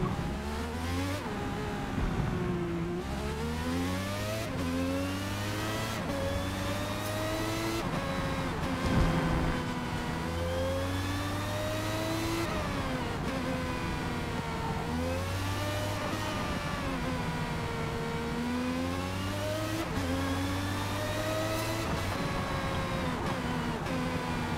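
A Ferrari 641 Formula One race car engine in the Forza Motorsport video game revs hard and continuously, with rising and falling pitch sweeps as it shifts through gears, loud and close throughout, with no talking.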